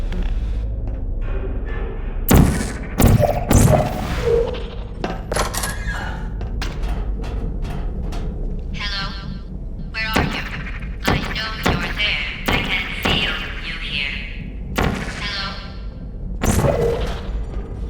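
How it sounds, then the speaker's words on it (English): Turrets drop out in the Portal video game with a series of heavy thunks and mechanical clunks, scattered irregularly over steady room tone, with some brief voice sounds between them. "Got some turrets coming out, lads."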